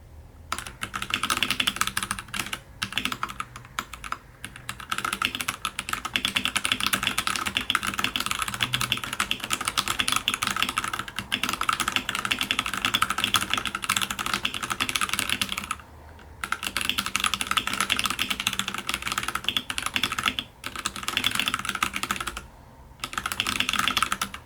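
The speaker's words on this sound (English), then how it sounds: "I'll show you how it sounds by doing a typing test." Rapid, continuous typing on a budget Royal Kludge RK98 mechanical keyboard, a close, clacky patter of keystrokes with a few brief pauses. No voices are heard.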